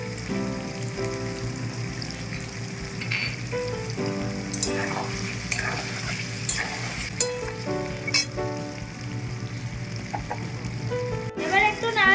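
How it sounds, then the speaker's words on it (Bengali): Chopped onion and tomatoes frying in a pan for a thin chicken curry, a dense continuous crackling sizzle with a few stirring clinks and scrapes, steady and close throughout, nobody speaking. "এবার দিয়ে দেবো পেঁয়াজ কুচিটা।"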